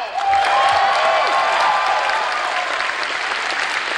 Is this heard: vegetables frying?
no